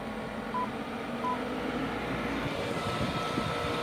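A NordicTrack Commercial 2950 treadmill from 2016 runs at its high setting, giving a steady, fairly loud motor and belt drone that holds throughout, with a couple of faint electronic beeps near the start.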